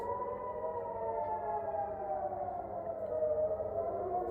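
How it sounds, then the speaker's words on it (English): A rocket warning siren in Israel wails steadily at a distance, its tone slowly drifting downward, heard alone with no voices. "Rocket warning sirens sounding across Israel daily."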